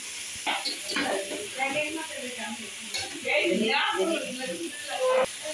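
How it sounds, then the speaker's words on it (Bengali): Chicken, vegetables and slit green chilies fry lightly in a pan. A continuous sizzle mixes with scraping stir strokes and clattering utensil noise, and a voice is faintly present underneath. "সবগুলো দিয়ে একটু হালকা ভেজে নিচ্ছি"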